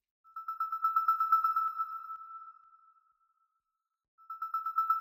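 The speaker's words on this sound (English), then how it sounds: "this one has an LFO that is very rapidly controlling the level of the oscillator" A pure synth tone pulses with rapid, even tremolo, swelling then fading out, then returning after a brief silence.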